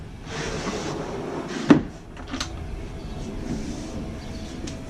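A drawer in a Dodge Ram van's rear kitchen slides along its guides with a soft rumble, then closes with a sharp knock, followed by lighter clicks and rustling.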